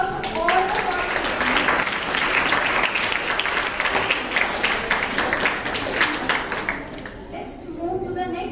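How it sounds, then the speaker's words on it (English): A school audience at an inter-house science quiz competition claps for the participants, a dense, sustained round of applause that stays steady and then thins out near the end. "Big round of applause for all the participants."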